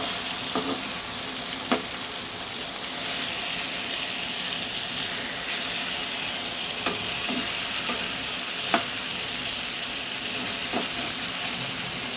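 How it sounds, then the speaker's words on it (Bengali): Chicken chaap pieces fry in a pan with a loud, steady, hissing sizzle throughout, broken by occasional light clicks of a utensil against the pan; close up, no talking. "পোড়া পোড়া কালারটা এসে গেলেই জানবে চিকেনগুলো ভাজা তোমার এক পিট করে হয়ে গেছে।"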